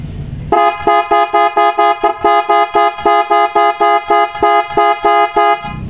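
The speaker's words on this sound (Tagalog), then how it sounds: "pakinggan natin yung tunog ng Superior Bass Horn" PIAA Superior Bass Horn car horn sounding in a rapid series of about sixteen short, loud, rich-toned honks with evenly spaced gaps, close and alone without talk.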